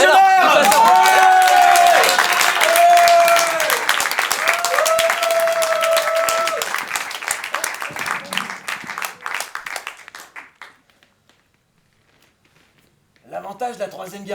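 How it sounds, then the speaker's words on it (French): A live improv comedy audience at a Paris festival claps loudly and densely for a performer, the applause trailing off to silence before a voice resumes speaking. "on applaudit Kevin le légionnaire"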